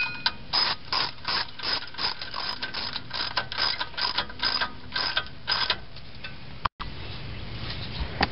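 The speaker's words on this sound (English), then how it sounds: "Now I'll just tighten up these 4 bolts." A ratchet tightens four bolts holding the steering knuckle on an independent-front-suspension Toyota truck, giving a steady, close series of rapid clicking bursts with brief pauses between strokes.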